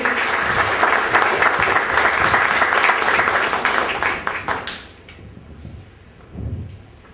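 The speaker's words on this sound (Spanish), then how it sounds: "Fuertes los aplausos, por favor, para el doctor." Audience applause for a doctor about to speak at the opening of a constitutional reform and human rights course, dense and sustained clapping for about five seconds before fading out, followed by a quiet room with a brief shuffle.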